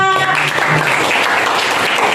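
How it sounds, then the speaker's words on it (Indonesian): Students in a junior high school classroom applaud after a group presentation, a loud, dense wash of clapping that holds steady from start to finish, with a brief voice at the very beginning. "Tepuk tangan kelompok 3"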